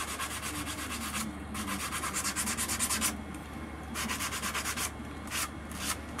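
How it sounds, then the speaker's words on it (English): Rhythmic scratchy rubbing of sandpaper on a carved wooden whale totem in quick repeated strokes, with short pauses between bursts, close and fairly loud. "Now it's just basically hand sanding."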